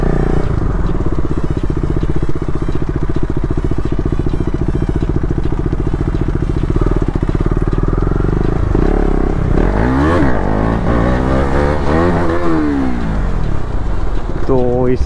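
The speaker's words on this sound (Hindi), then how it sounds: "तो अभी भाई बहुत दिनों के बाद एक बार उली मार के देख ही लेता हूँ।" A KTM Duke 250 motorcycle idling with a rapid throbbing beat, then revved hard for a wheelie: several rising and falling engine sweeps near the end, loud and close.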